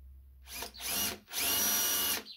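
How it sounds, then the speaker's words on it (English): Power drill boring a hole down through the middle of a wooden toggle, two close, loud whining runs separated by a brief stop. "We're trying to drill a hole right down through the middle of this."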